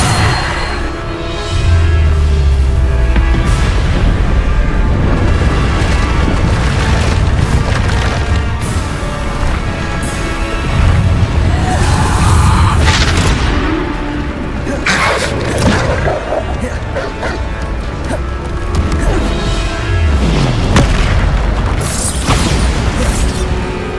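Bombarda spell blasts in the video game Hogwarts Legacy during a trial fight, loud repeated booms and splintering crashes with debris, nearly continuous for over twenty seconds amid other combat effects.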